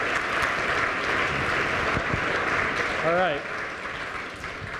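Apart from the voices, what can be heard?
audience applause for a team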